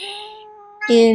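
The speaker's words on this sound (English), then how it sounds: "excuse my cat" A house cat meows loudly near the end, a sharp rising cry following quieter background sound, with a brief spoken word before it during a watercolor painting session.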